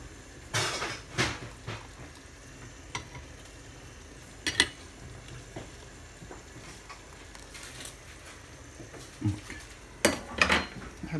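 A heavy frying pan of stuffed gnocchi in porcini cream is swirled on the stove, giving sparse metallic clanks and scrapes with louder knocks near the start and end.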